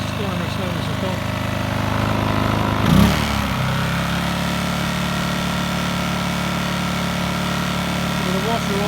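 A Briggs & Stratton P2200 pressure washer engine runs steadily with a droning, buzzy hum. There is a brief surge around the third second, and the sound continues unchanged to the end.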